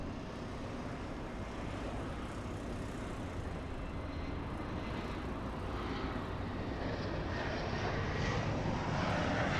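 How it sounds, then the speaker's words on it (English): A SkyWest airplane departing for Tucson, Arizona, gives off a steady, distant rumbling engine roar that builds gradually and never lets up. "The departure flight to Tucson,"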